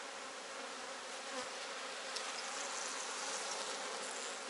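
Continuous buzzing of many honeybees at close range at the hive, a dense steady hum with no talking.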